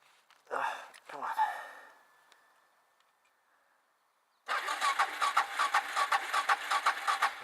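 A dual sport motorcycle engine is started after sitting unused for a while. A few short rough bursts come before a gap of quiet, then the engine catches and runs with a loud, rapid, pulsing idle, with a person talking early on.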